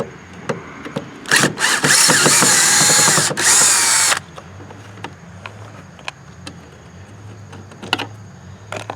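A power drill whirs loudly for about three seconds in short bursts, backing a screw out of an RV fridge bracket, followed by quieter clicks and handling knocks.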